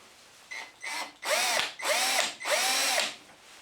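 A power drill with a Trend Grabit bit whirs in five short bursts, growing longer and louder, as it burnishes a small stripped screw in a key fob, close up.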